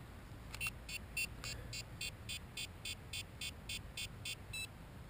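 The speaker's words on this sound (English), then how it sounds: "That last beep, beep. That tells you that it's connected." A steady series of about a dozen short electronic beeps from a Propel Cloud Rider drone connecting, evenly spaced and fairly quiet, over a faint background hum.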